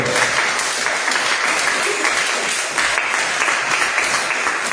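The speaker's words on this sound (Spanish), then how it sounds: "Palmas al Señor, gloria a Dios." Steady, loud applause from a large church congregation, continuous clapping filling the room for several seconds with no voices standing out.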